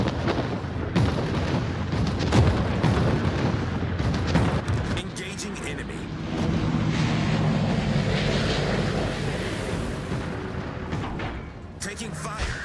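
Incoming naval gunfire in World of Warships, heavy booming shell blasts and rumbling explosions layered densely over one another, loud and continuous with a brief lull before more impacts.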